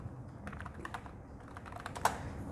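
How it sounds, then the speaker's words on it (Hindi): Keys on a computer keyboard are pressed in a quick, light run of clicks, ending with one sharper, louder keystroke for Ctrl+Enter, over a steady background hum with no talking. "कीबोर्ड से Ctrl+Enter हिट करेंगे"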